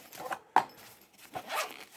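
A knife's zipper case is pulled open in a few quick rasping strokes with a sharp click, close and fairly quiet.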